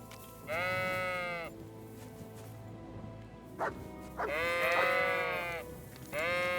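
Sheep bleating in the video game Kingdom Come: Deliverance II, several loud wavering bleats coming in bursts with short pauses between them over a low background.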